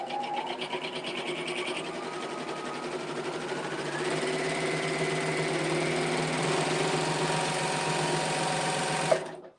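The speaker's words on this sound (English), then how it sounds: "if you're looking for a heavy duty serger with industrial like features" A heavy-duty serger sewing machine with industrial-like features running fast, a steady loud high-pitched whirring hum that shifts slightly in tone midway, then stops abruptly near the end.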